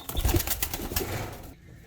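A racing pigeon flaps its wings in a burst of close, fluttering claps, with a soft coo mixed in, before everything falls quiet at the end.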